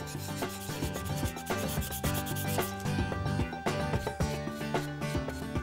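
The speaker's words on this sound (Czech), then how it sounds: "Každá forma se dokončuje ručním sekáním, pilováním a finálním leštěním." A glassmaking mould is finished by hand with a file and then polished, giving steady, rhythmic rasping strokes that are close and fairly loud throughout.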